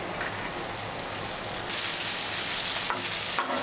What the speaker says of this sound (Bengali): এটা ভাজা হয়ে গেলে এখন দিয়ে দিব লাউয়ের বীজ।